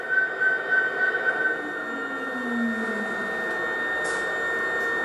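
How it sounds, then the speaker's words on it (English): A smoke unit fan runs inside an MTH G scale Union Pacific/Southern Pacific heritage SD70ACe model locomotive, giving a steady whining hum with a faint tonal whistle throughout, close and continuous with no talk. "you hear the fan that runs the smoke unit"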